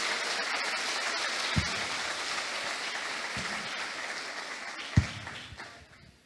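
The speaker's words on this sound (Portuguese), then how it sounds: "dê uma salva de palmas para Deus" A congregation applauds during a worship service, offering praise in a Portuguese-speaking church. Soft, continuous clapping fills the room, with a few louder thumps, before fading at the end.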